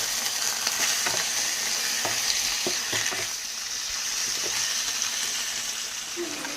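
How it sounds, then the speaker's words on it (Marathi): Spiced potato slices being stirred in a hot pan for a spicy Maharashtrian potato dish, giving a steady frying sizzle with scattered scraping and stirring clicks, close and moderately loud throughout with no talk. "असं व्यवस्थित मिक्स करून घ्यायचं आहे"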